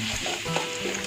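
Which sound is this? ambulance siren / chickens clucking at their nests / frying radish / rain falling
frying radish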